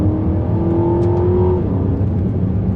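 An Aston Martin DBX, a large heavy SUV, accelerates hard with a loud, steady engine roar and a rising tonal whine that holds close and continuous throughout, no voices.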